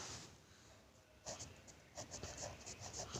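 A pen moves hurriedly across paper as an English grammar answer is written out, producing soft scratchy strokes in quick succession over faint room noise.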